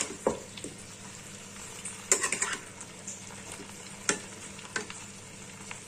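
Chopped tomato frying in a pan for a Bengali egg chochhori, a quiet steady sizzle broken by a few sharp stirring scrapes and clinks at close range, with no talking.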